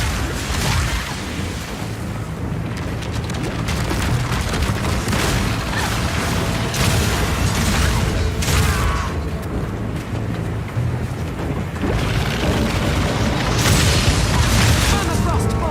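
Crossbow bolts fire in Path of Exile 2, armor-piercing, permafrost and incendiary types alike, as a dense, continuous barrage of booming impacts and bursts. It stays loud from start to finish, with game music and effects layered underneath.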